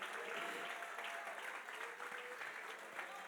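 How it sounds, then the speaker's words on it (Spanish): A church congregation applauds steadily, a dense continuous wash of clapping from a crowd at moderate loudness, with faint voices mixed in. "Denle un aplauso a Jesús."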